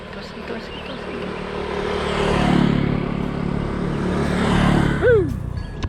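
Powerful scooters ride past on a road in a small Cambodian town, engines swelling as they approach and pass, with a higher whine near the end over steady street background.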